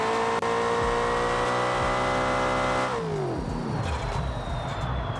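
A racing-game drag car holds a loud, steady high rev on the line, then drops sharply in pitch as it launches and pulls away, with no talk over it.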